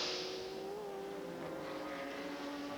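Race cars in the 2003 Rolex Sports Car Series at Mid Ohio roar steadily with a high, sustained engine whine that shifts slightly in pitch, distant and faint under a broad rushing noise.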